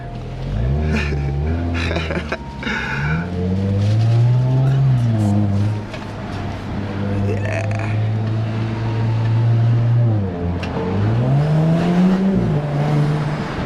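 A 2018 Audi S5 Sportback engine rumbles steadily and revs up and down, a low throaty exhaust note rising and falling close by, with brief talk mixed in.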